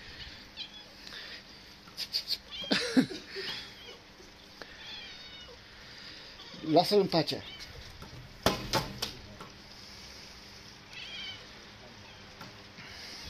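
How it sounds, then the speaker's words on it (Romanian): A cat meows and caterwauls at an injured seagull, with several loud, drawn-out cries in bursts, while a person speaks nearby. "Ia, pisica!"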